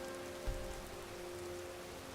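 Soft, steady rain in Skyrim VR patters on a surface, faint and even, with a brief low thump early on.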